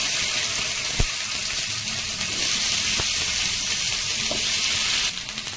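Tomato pieces fry in hot oil in a pan, giving a loud, continuous close-up sizzle. Light clinks sound now and then, and a brief stir or scrape comes at the end.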